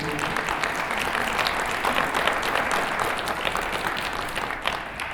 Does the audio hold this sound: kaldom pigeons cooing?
no